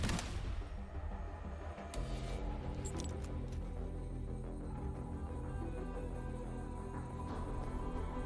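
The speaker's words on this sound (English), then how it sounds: "Right when I say it. Gunfire!" Gunfire in the Wuthering Waves video game, a dense burst of shots and sharp impacts at the start giving way to a continuous rumbling battle bed with scattered metallic cracks, no voices.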